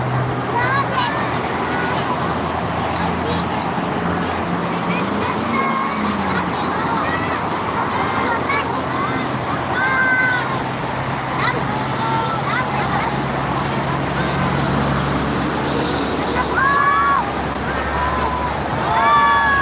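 Dense, continuous roar of heavy traffic on the Jakarta–Cikampek toll road near a rest area, tyres and engines blending into a loud wash with occasional squeals and passing vehicles, people talking nearby.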